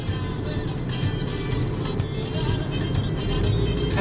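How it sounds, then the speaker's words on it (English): Slow-moving road traffic rumbles steadily around a car, a low continuous engine and tyre drone heard from inside, with no clear passes standing out. "here we got traffic on that side, and here we got traffic on this side"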